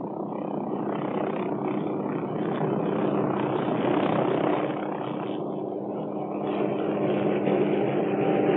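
A Hughes OH-6 Cayuse helicopter in flight, its engine and rotor forming a steady, moderately distant whir with a slight rhythmic chop that swells and eases a little over the stretch.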